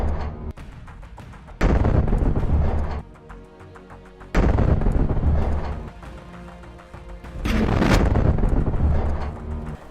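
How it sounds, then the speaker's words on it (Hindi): Large explosions from a remote-detonated charge blowing up a Merkava tank in a combat zone near Jabalia in northern Gaza, three loud, sustained roaring blasts with rumbling, windy tails separated by quieter gaps. "इसके बाद एक मेरकावा टैंक को धमाके के साथ उड़ा दिया जाता है।"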